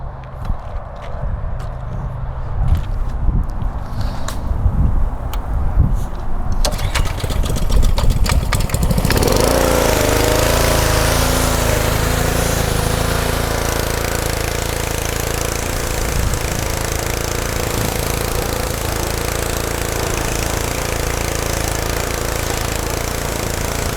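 A Honda-powered pressure washer engine starts up and runs loud and steady close by, after a few seconds of quieter clatter and handling noise.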